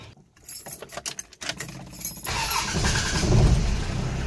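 A car engine cranks with a few rapid clicks and turns, then catches at about the halfway point and settles into a loud, steady idle after its power steering belt has been tightened.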